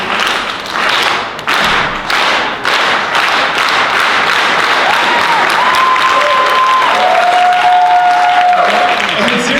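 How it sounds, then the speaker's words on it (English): An audience at a youth gathering gives a slow clap, with evenly spaced, deliberate claps that build into fuller crowd applause and murmuring. "can we give a slow clap to our parents that are here?"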